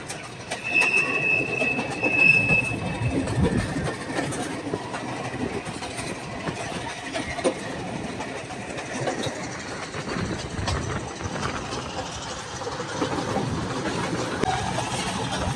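A train on the Nuwara Eliya to Ella line in rainy Sri Lankan hill country runs with continuous rumble, wheel squeals and clickety-clack, heard from on board and fairly loud throughout.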